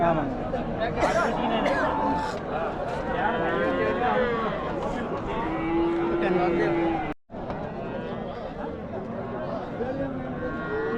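Cattle, native and crossbred cows, low and moo at a livestock market in Puthansanthai, amid a busy hubbub of people chattering nearby, with crowd noise and voices filling the background throughout.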